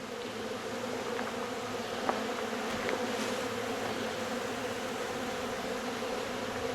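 Steady, dense buzzing of a wild honeybee colony swarming at its hive entrance, a continuous close drone of many wings with no voices.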